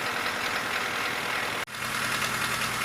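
A John Deere 2010 tractor engine idles with a steady, even chugging throb, loud and close, broken by one very brief dropout partway through before the idle resumes.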